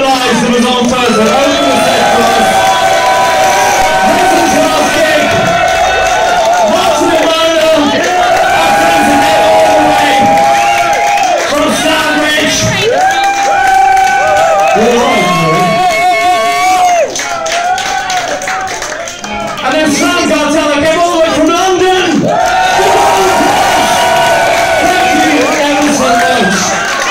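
Concert audience at a live gig cheering, whistling and applauding loudly and continuously, a dense crowd roar with shouts rising over it, while music and voices carry through underneath.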